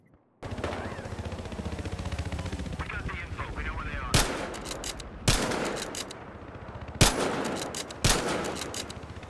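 Loud, sharp bursts of gunfire in Battlefield Hardline ring out at intervals over a dense, rumbling game soundscape, each shot cracking through close and heavy.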